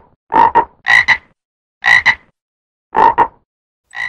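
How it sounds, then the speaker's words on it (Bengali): Cartoon frogs croak in a steady series of paired, throaty double-croaks, loud and close, spaced about a second apart with silence between. "দেখেছো, ব্যাঙ ডাকছে।"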